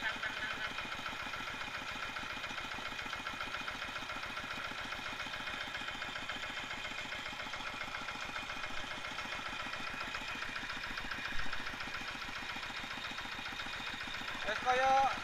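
A smoky diesel engine idles evenly with a fine, rapid, regular knock that stays steady and moderately loud throughout, with a voice talking over it now and then.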